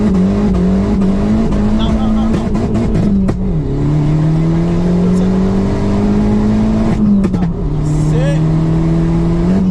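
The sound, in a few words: 2009 Abarth 500 accelerating hard in first gear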